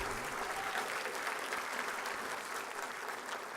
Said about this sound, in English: Let's give a round of applause for her and her committee